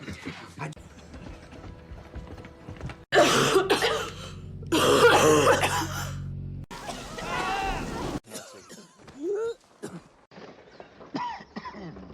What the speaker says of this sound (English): stop coughing. I'm coughing because of dust.